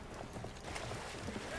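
A horse gallops in Battlefield 1, quick rhythmic hoofbeats pounding steadily up close, faint and low, with a player's voice talking over them.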